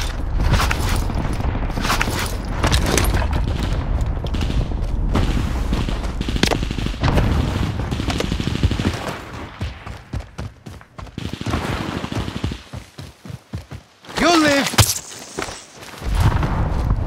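Rapid gunfire bursts and booms from a battle royale style video game, dense and loud, with a sharp crackling volley near the end.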